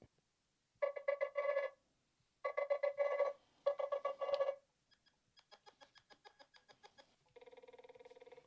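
A series of electronic ringtone bursts from a Nothing Phone 2, each a rapid trilling pattern, with short gaps between them and the tone changing from one burst to the next.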